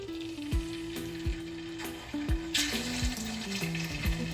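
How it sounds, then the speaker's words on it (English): Chicken wings fry in hot oil with a steady crackling sizzle, punctuated by sharp pops and clinks of utensils against the pan, close up with no talking. "I'm gonna start frying my chicken wings"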